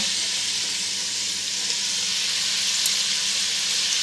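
Tomato and pepper paste fries in a pan while a celery and meat dish is being made, giving a steady, loud hissing sizzle close by that continues without a break and with no talking.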